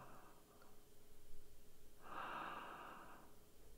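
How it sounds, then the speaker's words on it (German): A character in the horror game The Bunker breathes heavily, with a faint, soft breath early on followed by a longer, louder rasping exhale, heard close in a quiet room. "Er atmet sehr schwer."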